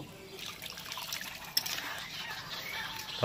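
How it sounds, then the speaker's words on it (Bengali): A little water is poured into a simmering paneer kofta curry. A soft, close trickle of liquid runs throughout, with one brief sharp tap partway through. "এবার দিয়ে দেবো একটু জল, অল্প"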